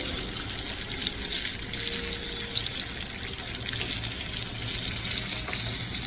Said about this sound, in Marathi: दोन्ही साइडनी छान तळून घ्यायची आहे